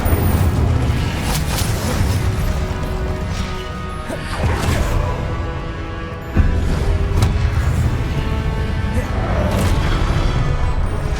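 Incendio fire spell cast in Hogwarts Legacy combat: loud whooshing bursts of flame with crashing impacts, a heavy blast near the middle and a sharp hit later, layered over dense, constant battle noise.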